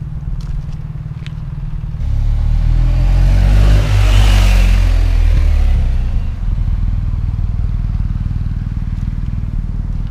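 A BMW R1300GS motorcycle engine revs up loudly for a few seconds, then settles back to a steady, rumbling run with a low throb throughout.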